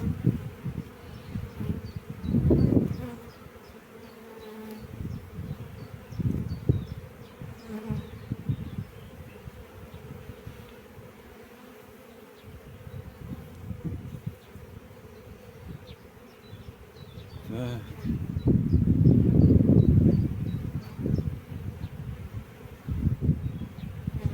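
Dense, continuous buzzing of many honeybees close by at an opened hive, worked without a smoker, swelling louder and softer as individual insects fly past, with no talking.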